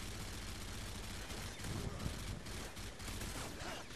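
Gunfire in Modern Warfare 3 team deathmatch on the Interchange map, a dense continuous rattle of shots at moderate level, no talking.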